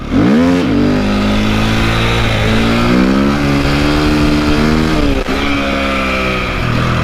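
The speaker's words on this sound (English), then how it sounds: "one of the fun things about a clutch up wheelie is you can do them at slow speeds" A KTM 250 motorcycle engine holds a loud, steady mid-pitched drone during a slow clutch-up wheelie, opening with a quick rev and then settling into a sustained, slightly wavering pull, close to the microphone.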